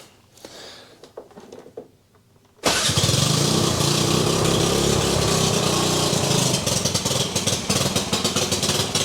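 A Vespa scooter with a big cam and an exhaust leak fires up after some quiet handling noise, then runs loud and close with a rough, choppy idle.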